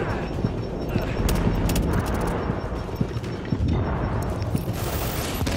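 Automated turret fire in The Division during the Queens Tunnel Camp mission, a dense run of rapid gunshots over steady combat noise across the whole stretch, with a few louder cracks standing out.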